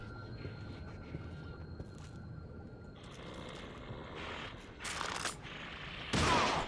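An enemy fires a gun in the horror game The Evil Within: after a low, rumbling stretch, two sharp bursts of gunfire crack out near the end, the second louder and closer.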